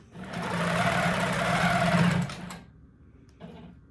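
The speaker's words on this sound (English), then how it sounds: "I'm going to take this machine and stitch it over it." A sewing machine stitches over a repair on an heirloom quilt in one steady, close run of about two seconds, then stops, followed by a brief faint clatter.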